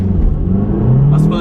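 An Audi S1 Quattro, a 230-horsepower four-wheel-drive small car, accelerates flat out in first gear on a wet English country road, engine rising in pitch as it revs, loud and close with a voice talking over it.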